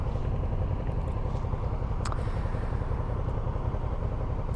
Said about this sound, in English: Nice BMW R1250, I think. R1250 RT.